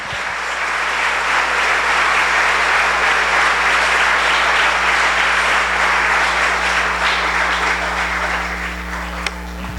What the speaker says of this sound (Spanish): ¿Quién le da un aplauso al Señor por esa posición?